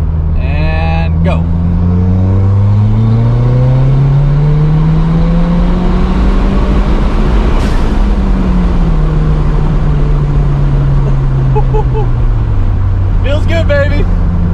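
Ford Fiesta ST pulled at full throttle in third gear, a loud engine note climbing steadily in pitch, peaking, then falling away as the car eases off, with a driver's voice briefly at the start and end.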